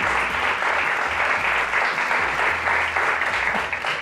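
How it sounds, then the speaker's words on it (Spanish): Dense, steady audience applause at a Spanish talk show, loud and sustained throughout with no pauses, filling the space evenly from start to finish. "Un aplauso para el doctor Adanti."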